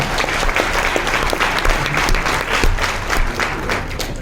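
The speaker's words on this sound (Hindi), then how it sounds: "एक बार जोरदार तालियों से तो स्वागत करें फ्लैगशिप का" A business-meeting audience applauding loudly and steadily, dense clapping from a crowd close by, with no speech over it.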